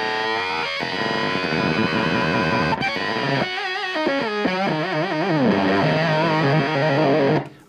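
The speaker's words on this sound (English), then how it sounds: "I step on this, you'll start hearing the octave." An electric guitar on its neck pickup played through a Dirty Boy Pedals Octo '59 octave fuzz pedal, thick distorted notes and bends with a warbling upper-octave edge, loud and continuous for about seven seconds before cutting off abruptly.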